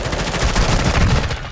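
Rapid automatic gunfire in the video game Call of Duty: Modern Warfare II, a dense, continuous burst of loud shots with no pauses.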